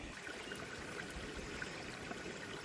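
Trail stream on New Zealand's Te Araroa in Longwood Forest, used as a water source: a steady, broadband rush of flowing water, continuous and fairly close, with no voices.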